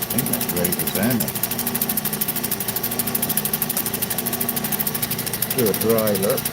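A lapidary machine hums and whirs steadily as it sands a freshly cut rock, a close, continuous motor drone with a faint grinding texture and brief murmured voice near the start and end.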